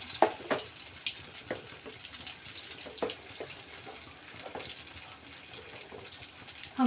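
Fritters of dosa batter frying in hot oil, a continuous close bubbling sizzle with brief spattering pops and occasional louder crackles as more batter goes in, with no talk.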